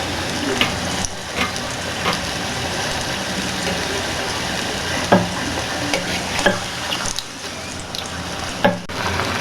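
Wheat-flour fish poori fries in hot oil as it is carefully flipped, with a steady loud sizzle broken by several scraping and clinking turns of a utensil against the pan, close up.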